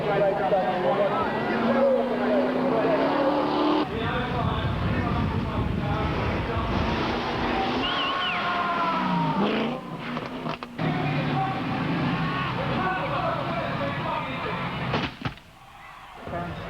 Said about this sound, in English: Now they're getting it sideways, round the corner.